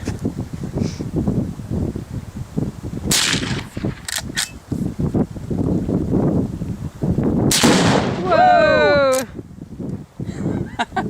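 Several sharp cracks from a Henry Golden Boy .22LR rifle fired outdoors, spaced a few seconds apart, with people talking and wind buffeting the microphone in between.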